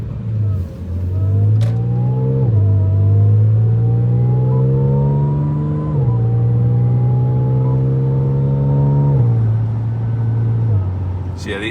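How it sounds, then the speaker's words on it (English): A tuned B8.5 Audi S5 with a supercharger and aftermarket intake revs and pulls through gears, its engine drone stepping up in pitch with audible shifts and a faint whine layered over the exhaust, loud and close. "Now you can hear the supercharger a bit more."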